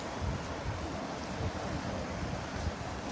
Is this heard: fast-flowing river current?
yes